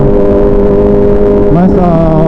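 A car engine with a modified muffler revs loudly and close, holding a harmonic drone before pitching upward in a quick rise.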